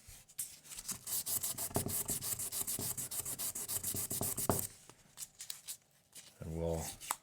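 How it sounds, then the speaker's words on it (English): Sandpaper rubs on a jaw harp in quick back-and-forth strokes, close and scratchy, for several seconds. Afterward there is a brief pause and a short twangy buzz, and a voice speaks at times. "We're just going to give it a little bit of sanding."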